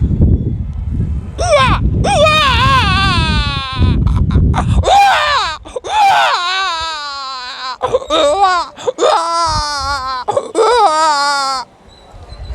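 A man imitates a crying child with a series of wailing, quavering sobs, preceded by a stretch of muffled background noise.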